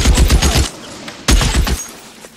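Gunfire in the video game L.A. Noire arrives as two loud, close bursts of rapid shots, each a rattling volley lasting under a second, separated by a short lull with a fading echo.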